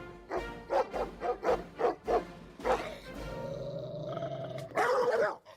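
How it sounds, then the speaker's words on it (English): Dog barks come in a quick series of loud, rhythmic yaps, followed by a longer growling, roaring call and a final burst. The dog is Commander, the White House dog. "Here's an update on Commander, the White House dog."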